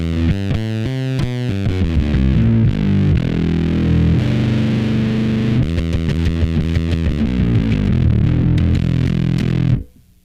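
Heavily distorted electric guitar through a Moore fuzz pedal, with thick fuzz tone, plays chords and riffs continuously, loud and saturated, ending abruptly.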